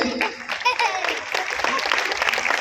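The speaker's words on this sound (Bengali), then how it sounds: "আজকের দিনটা একটু হাততালি দেবেন" Audience at an evening cultural dance and music programme breaking into applause, a moderately loud patter of clapping that rises and continues, with a voice talking over it.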